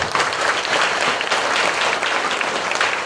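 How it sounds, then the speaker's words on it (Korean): A congregation at a Korean church installation thanksgiving service breaks into loud, continuous applause that is dense, close and steady for the whole stretch. "하나님께 영광의 박수를 올려드립니다"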